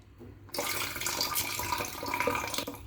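Grapes are rinsed under a running kitchen tap, water gushing and splashing in a sink after a brief quiet start, steady and close with small fluctuations and no talk.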